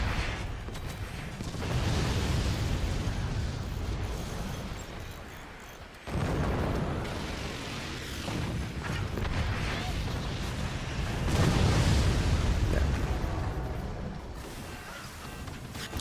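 Nuclear explosions in the real-time strategy game Forts: sustained, heavy booming blasts and rumbling impacts that keep going, with a sharp cut near the middle and a louder surge later, mixed with other battle noise.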